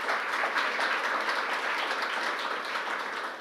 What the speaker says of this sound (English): Big round of applause, Rojin.